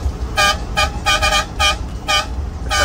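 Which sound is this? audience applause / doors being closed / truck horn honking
truck horn honking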